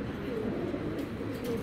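Long-distance racing pigeons coo in a loft, a few soft low throaty calls close by over steady background noise.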